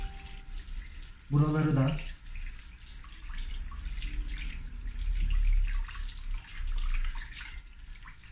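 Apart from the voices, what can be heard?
rinsing hair with tap water at a barber's sink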